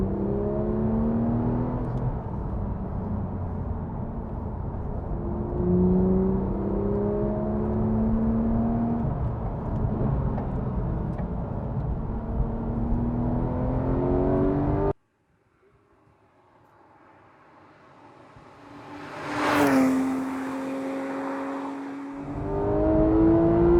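A Porsche 911 GT3 of the 991.1 generation, fitted with a PDK gearbox, revs hard and pulls through the gears for about fifteen seconds. After a brief drop it surges loudly again, with a sharp rising howl and a throttle blip close by.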